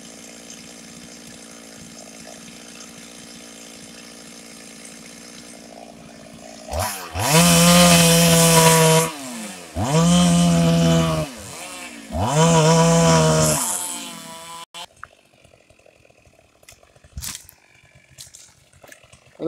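Chainsaw cutting eucalyptus wood in a tall, dense forest, roaring loudly in three long revving bursts with brief dips between them, then dropping away to quiet outdoor ambience.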